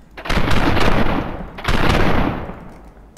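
Gunfire in a Dien Bien Phu war video game: a dense, booming volley of shots that swells, dips briefly, then rolls on again, loud and close, with no talk.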